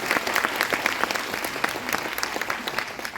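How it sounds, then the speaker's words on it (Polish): An audience claps for an interpreter at the start of an interview and autograph session in Poland, with steady dense applause throughout and no voices over it. "brawa dla tłumaczki na początku"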